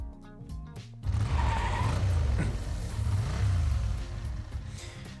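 A vehicle tearing along a winding road in the Arknights story, its engine a loud, steady roar with a brief tyre screech partway through as it takes a curve.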